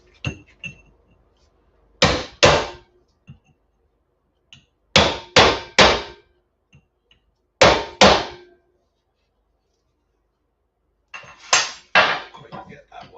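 A hammer strikes scrap metal during home scrapping, with sharp clanging blows in clusters of two or three, separated by pauses of quiet.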